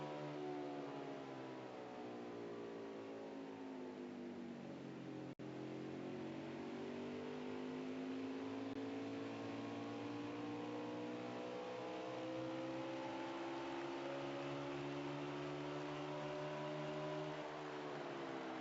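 Stock race cars at a GEARS Cup Series race at WWT Raceway, engines droning and rising and falling in pitch as they circle, a steady distant roar with no talk.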